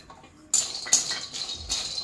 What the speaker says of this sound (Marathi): आता इथे आपण काजू भाजून घेऊया